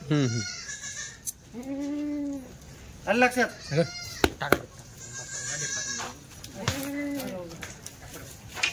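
Several wavering Jamnapari goat bleats rise between stretches of nearby conversation, repeated a few times at close range.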